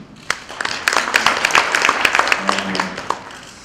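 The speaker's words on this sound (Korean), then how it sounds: "박수로 응원 한번 크게 보내주세요." Applause from an audience at a ceremony in Changwon appointing actors as tourism ambassadors, a loud, dense patter of clapping filling the few seconds, with sharp individual claps standing out.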